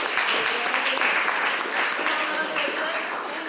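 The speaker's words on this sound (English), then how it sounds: "Clap for seven guys." Audience applause fills the room in a dense, continuous wash of clapping throughout, with voices mixed faintly beneath.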